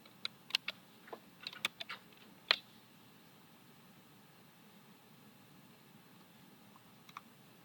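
Computer mouse clicking at a desk, a quick burst of faint, close clicks over the first couple of seconds, then quiet hiss and one more lone click near the end.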